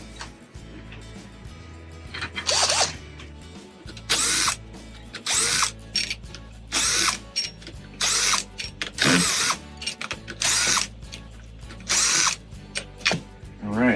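A power drill backs screws out of the housing of a Simplicity Freedom vacuum cleaner in repeated short whirring bursts, close and loud, with brief pauses and small clicks between them.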